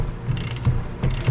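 A hand-turned puller on a 1993 Lincoln Mark VIII rear wheel bearing gives two bursts of ratcheting clicks, close and fairly loud, with low creaks between them.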